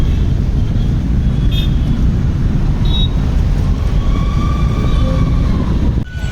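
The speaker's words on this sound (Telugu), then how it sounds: "ఇదనమాట బెంగళూరులో మెట్రో స్టేషన్." A metro train rumbles at a Bangalore metro station, a loud, steady, close roar that continues throughout with faint higher squeals and tones, then dips briefly just before the end.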